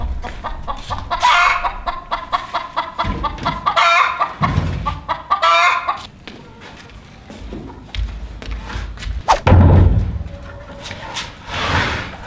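Chickens cluck and squawk inside a coop, close and loud, with several birds calling in overlapping bursts and a rooster-like crow partway through.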